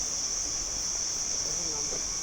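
A cicada drones in a continuous high-pitched buzz at Kuang Si waterfall near Luang Prabang, steady and moderately loud over soft background ambience.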